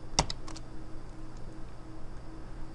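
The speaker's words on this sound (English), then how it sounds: "So I'm going to press on my keyboard the letter O." A single key on a computer keyboard is pressed, giving one crisp click followed by a couple of faint ticks in a quiet room.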